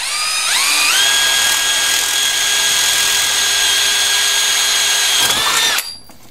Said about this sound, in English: always watch your hands when you're drilling